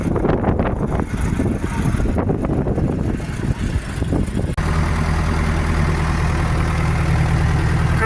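A YuMZ tractor engine rumbles nearby on a farm with some clattering at first, then settles into a steady, low, throbbing idle for the last few seconds.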